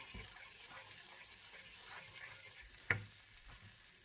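Butter melts and sizzles in a pan while butter fried rice with chicken, egg and carrot is being cooked. A faint, steady crackle runs throughout, and a brief sharp clink cuts in near the end.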